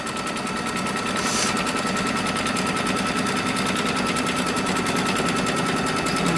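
Close, continuous rapid stitching from a sewing machine running an automatic stipple quilting pattern, a steady fast mechanical chatter that stays even and loud throughout with no voices.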